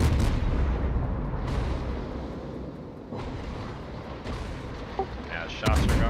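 Naval guns firing in the World of Warships video game, with a Bismarck battleship shooting, heavy booming blasts with long rumbling decays, several shots spaced apart under a voice talking.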